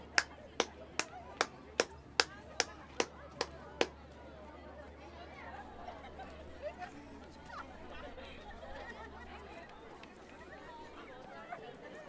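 Hands clap nine times in a quick, steady rhythm in a classroom, crisp and close. Lively chatter from a group of students follows and carries on.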